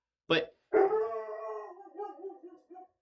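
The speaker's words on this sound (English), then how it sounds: "oh, you guys can hear my dog barking" A pet dog at home gives a sharp bark, then a drawn-out howling yowl that fades in wavering bursts. It sounds fairly close but muffled, with a brief word spoken just before.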